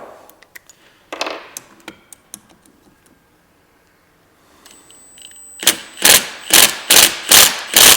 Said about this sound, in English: And hammer it in.